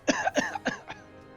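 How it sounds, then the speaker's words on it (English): Three or four short, close coughs in quick succession, each one weaker than the last, heard alone. "as he coughs some of it out"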